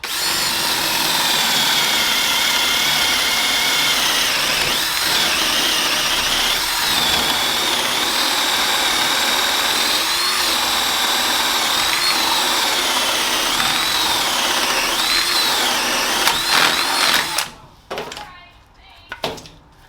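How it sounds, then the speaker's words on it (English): Power drill boring drain holes into a wooden log bonsai pot, a loud sustained whine at close range that runs for about seventeen seconds, then stops, leaving quieter handling sounds. "So now we got to drill our drill holes, or our drain holes"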